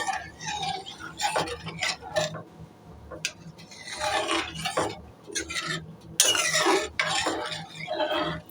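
Homemade tomato ketchup, seasoned with a little black pepper powder, simmers in a pan as a spoon stirs and scrapes it in irregular, close strokes with soft bubbling in between.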